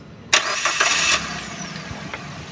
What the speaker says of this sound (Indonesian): Nah, bener ya, halus. Suara stasionernya halus.